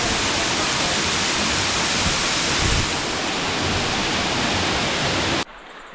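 At Stevensons Falls the waterfall gives a loud, continuous rushing roar up close, which cuts off abruptly near the end.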